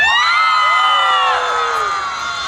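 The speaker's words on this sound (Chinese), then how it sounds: "歌手呢最重要的就是台下的掌声跟尖叫声" Concert crowd at an outdoor stadium music show screaming and cheering loudly, a sustained chorus of high shrieks and whoops from many voices that gradually fades.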